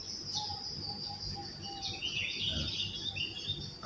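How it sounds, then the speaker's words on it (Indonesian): Birds chirp and warble high overhead, scattered calls and trills over a low background rumble, fairly faint and distant. "Biasanya ini di atas pohon-pohon ini ada burung-burung berkicau."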